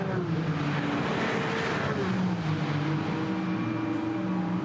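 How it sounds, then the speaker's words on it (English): Toyota Supra race car at the Nürburgring during an endurance series race, its engine droning loudly and steadily with shifting tones as it pulls away back into the race, with no talk over it. "The 160 Supra is back into the race, Johnny."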